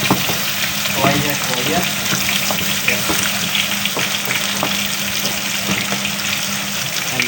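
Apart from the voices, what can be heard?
fish dhaal curry frying and being stirred in pan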